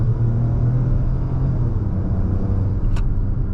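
A 2021 Ford compact SUV, Bronco Sport or Escape, gathers speed on the road, its steady low engine rumble and road noise droning close and continuous, with a brief faint high click near the end.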